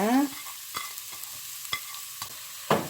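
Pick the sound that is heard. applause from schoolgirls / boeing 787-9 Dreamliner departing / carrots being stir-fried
carrots being stir-fried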